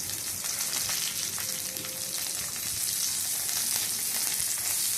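Amaranth leaves (thotakura) fry with mustard seeds and garlic, an even close-up sizzle with faint crackles and pops that grows slightly louder.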